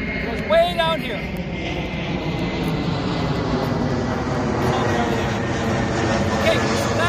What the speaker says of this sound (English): We're near the airport, that's where you see a lot of planes.